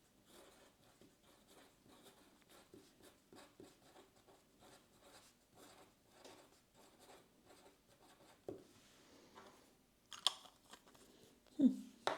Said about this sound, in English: Let's try the Twisby with the fine nib.